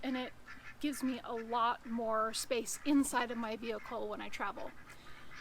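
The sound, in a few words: ducks quacking, asking for food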